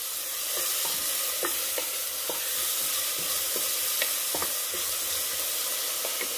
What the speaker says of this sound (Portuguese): Dar uma mexidinha. Lembrando que a minha panela já estava aquecida.